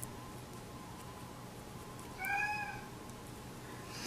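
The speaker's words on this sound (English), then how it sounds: "the cat is loud enough" A single short cat meow sounds midway, moderately close, over a quiet steady background hum.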